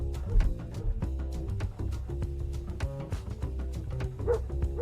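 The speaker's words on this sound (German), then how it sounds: "Da unten steht ein Hund und bellt mich an." A dog barks and yips repeatedly from somewhere below inside the squirrel game Squirreled Away, its short calls set against steady in-game music and ambience throughout.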